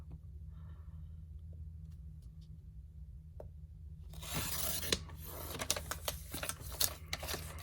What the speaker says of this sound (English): you're going to take scissors, or you can put it in your trimmer, and you're going to trim down the sides so that all these pieces are cut off